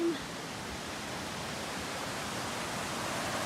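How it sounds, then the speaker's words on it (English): A fast-flowing stream beside a hiking trail near Arethusa Falls in New Hampshire rushes steadily, a close, continuous broadband wash of water with no break. "so let's take a look at this stream"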